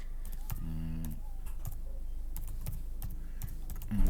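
Clicky computer keyboard typing in irregular bursts of sharp keystrokes, close and fairly quiet, with a faint low hum underneath and no talking.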